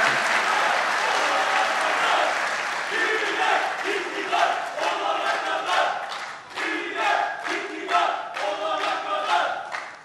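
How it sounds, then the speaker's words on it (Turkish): A crowd at an İYİ Party political rally in Tekirdağ bursts into loud, sustained clapping mixed with cheers and chant-like shouts. The dense applause rolls on without a break for about ten seconds. "Yani alkışlayacağınız zaman alkışlarsınız."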